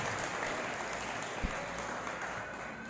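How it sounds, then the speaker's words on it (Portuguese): Church congregation applauding during a Portuguese-language service, a faint, continuous spread of clapping heard from a distance, with one brief sharp knock partway through. "Você pode aplaudir o Senhor?"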